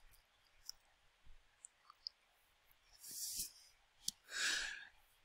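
A few short, faint mouse clicks on a computer set up for a cloud security dashboard, scattered across a quiet background with a couple of brief louder rustles in between.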